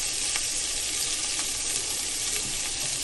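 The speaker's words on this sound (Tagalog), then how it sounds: "Sauté." Pork sautés in a pan with a continuous, dense sizzle and crackle, close and steady throughout, with faint stirring scrapes now and then.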